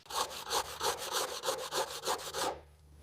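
A grinder strips rust from the body of an old Mercedes-Benz T1 van in rhythmic, repeated rasping strokes, close and fairly loud, before stopping abruptly near the end.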